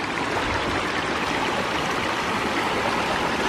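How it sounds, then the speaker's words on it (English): A small unnamed side stream feeding Bacon Creek in Monte Sano Nature Preserve, Alabama, flows steadily nearby, a continuous bubbling, trickling rush of water with no other sounds. "A little side stream coming down and crossing."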